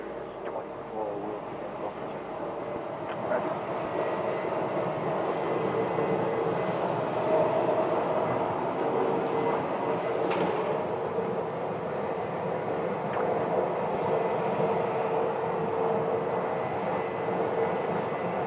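Frontier Airbus A320neo airliner taxiing for departure at Phoenix Sky Harbor, a steady broad jet-engine rumble and whine holding fairly loud and even throughout, with faint background noise and no clear talk.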